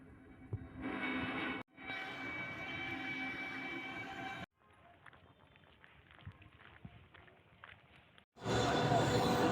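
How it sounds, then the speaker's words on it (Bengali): A train at Namkhana railway station, a steady rumble and clatter of rolling rail cars heard in distinct segments broken by abrupt cuts, moderately loud with brief bursts of louder noise. "তো নামখানা স্টেশনে আমি এখন রয়েছি।"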